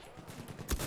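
Machine gun fire in the World War I shooter Battlefield 1, a short burst of gunfire with a heavy boom near the end, loud and close amid battlefield noise.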